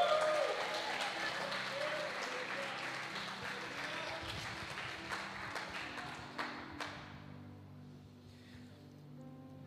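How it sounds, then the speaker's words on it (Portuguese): A church congregation at a holiness conference gathering applauds, a broad rustle of many hands clapping that starts strong and fades away toward the end, leaving a quieter room with faint murmurs. "Dê um aplauso a Jesus"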